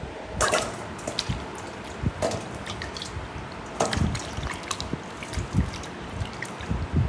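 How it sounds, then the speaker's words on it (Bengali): A mango is rinsed under water, with a soft splashing and trickling close by, broken by occasional knocks and handling clatter against a bowl or sink. "এখন এটা ধুয়ে ফেলাই"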